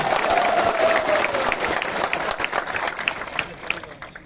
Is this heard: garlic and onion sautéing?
no